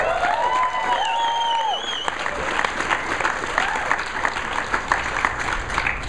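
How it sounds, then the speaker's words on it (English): Sustained applause from a large audience at a robotics company event, dense and even clapping with some cheering, mixed with brief tonal electronic sounds early on and continuing without pause. "guys will be clapping for a while"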